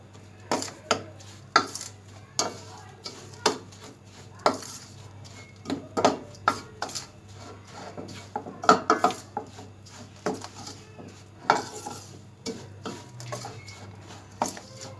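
Whole coriander seeds, cumin and other spices being stirred together in a pan or bowl for a Lahori fish fry masala, giving repeated scraping and clinking spoon strokes at an irregular pace, close and moderately loud, with no talking.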